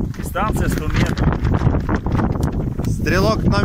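Strong wind gusting at an outdoor shooting range, buffeting the microphone as someone talks over it.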